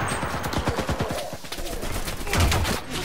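Gunfire in the video game CRSED, a rapid burst of close shots rattling through the first half, then more scattered shots with a heavier thump near the end, with a voice faintly in the mix.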